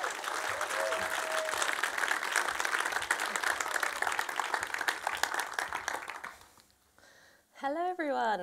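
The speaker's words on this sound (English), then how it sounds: "once again, a giant round of applause for Sareh Heidari." Audience applause for speaker Sareh Heidari at a talk in Leeds, sustained dense clapping from a crowd for about six seconds, fading out before a voice begins speaking over a microphone.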